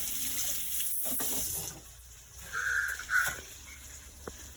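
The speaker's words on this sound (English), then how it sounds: "we're going to give this a quick wash down" Tap water runs over a cabbage being rinsed in a sink, a steady splashing flow that changes as the head is turned under the stream, heard near and without talk.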